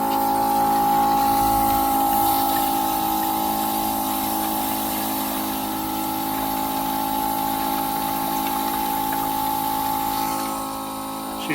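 A goat milking machine runs with a steady, loud mechanical hum and pumping drone, continuous and close, with no talk over it.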